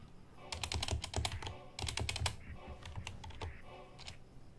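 Typing on a computer keyboard during game development in Unity: quick bursts of close key clacks, a pause, then more rapid keystrokes trailing off, with no talk.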